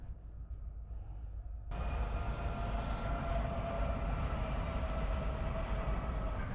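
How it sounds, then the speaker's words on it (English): A train rolls past steadily, its rumble jumping louder as it nears and then holding a broad, sustained roar with a faint tonal whine, no voices. "Make him watch the train."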